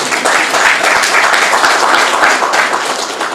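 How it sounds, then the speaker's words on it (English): Steady applause rings out in a news studio, a dense, even round of clapping from a small audience that carries on without pause. "I'm thinking we still need to clap for that success story"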